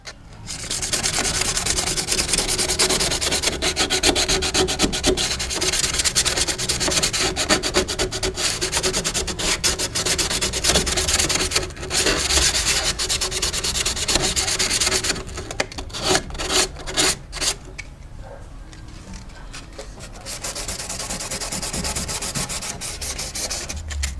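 Continuous rhythmic rubbing and scuffing of a Honda Accord trunk panel by hand before fitting a spoiler, abrasive strokes repeating closely for a long stretch, then growing sparser and quieter before resuming.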